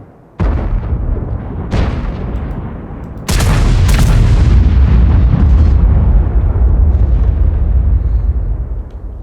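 Tank cannon shots from World of Tanks, patch 9.14, heard from the third-person camera. Four heavy booms land in quick succession, each one loud and followed by a long rumbling echo.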